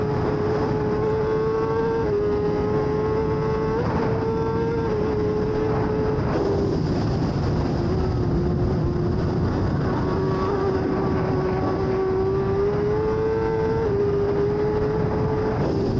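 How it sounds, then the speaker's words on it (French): A racing motorcycle at the Isle of Man Tourist Trophy, in 2024, screams past on a lap, its high engine note rising and falling with gear changes, loud and continuous with no voices. "C'était un tour, je crois, pas chronométré, juste essayer la moto."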